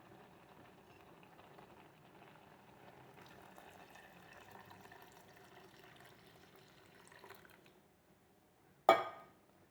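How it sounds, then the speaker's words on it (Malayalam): Coconut milk poured into a tomato curry in a pan, a soft steady liquid stream with faint bubbling lasting several seconds, then quiet and a single sharp clink near the end. "ഇനി അതിലേക്ക് തേങ്ങാപ്പാൽ ഒഴിക്കുക."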